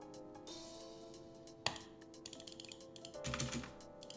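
Rapid keyboard typing on a computer during a multiplayer game session, a close, quiet clatter of keystrokes with a louder burst of clicks near the end, alone without talk.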